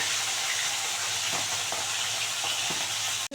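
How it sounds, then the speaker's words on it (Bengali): Tilapia fish pieces frying in hot white oil, a steady dense sizzle with a few soft stirring scrapes, close and continuous, ending in a brief clunk. "দুটো দুটো করে ভেজে নেব"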